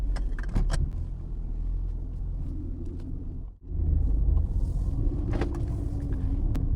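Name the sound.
Mercedes-Benz W209 V6 engine rumble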